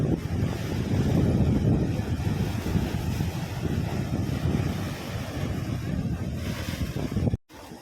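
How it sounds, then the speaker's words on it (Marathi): Rough, swollen sea surging and crashing at Hedvi beach on the Konkan coast, a loud continuous roar of surf with heavy wind buffeting the microphone, ending in a sudden brief cutoff. "मित्रांनो समुद्र पूर्ण खवाळलेला आहे"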